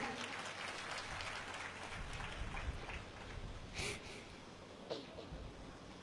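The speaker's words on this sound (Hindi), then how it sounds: "मैं चाहता हूं कि एक बार पूरा मजमा जोरदार तालियां बजा दे।" Loud applause from a large mushaira crowd at a Urdu poetry gathering in Bhatkal, a dense steady rain-like patter of many hands that runs the whole time with a few louder swells.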